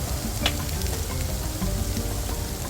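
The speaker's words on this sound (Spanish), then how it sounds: "vamos a hacer nuestro mirepoix, nuestro sofrito, cebollita" Onion, celery and carrot for a sofrito frying in a pan with a dense, even sizzle, close and steady with faint crackles and light stirring.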